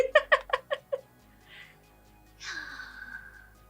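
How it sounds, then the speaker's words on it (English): A pet cat being petted gives a quick run of short, chirpy calls, then a soft murmur and a longer drawn-out meow, all quiet and close. "I'm petting my cat right now."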